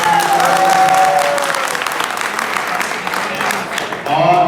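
College magazine event audience applauding in a hall, a sustained burst of clapping from a crowd that carries through the whole stretch, with a voice speaking faintly over it.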